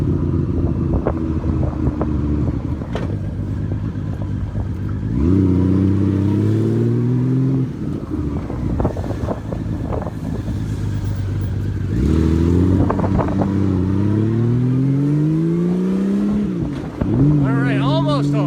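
Motorcycle engine riding through Tokyo traffic, rising and falling as the rider revs through the gears, with clear pitch climbs and drops between shifts and a voice talking over it.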